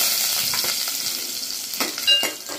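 Mustard, cumin, fenugreek and coriander seeds sizzle in hot oil as a tempering for a traditional rasam, giving a bright, steady hiss close up with a few sharper crackles and stirring scrapes near the end.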